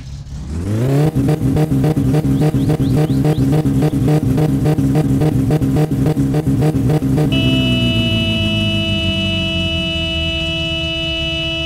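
A car engine in the My Summer Car driving game cranks briefly and catches after a starter fault, then revs hard and steadily for several seconds before settling into a high, even idle.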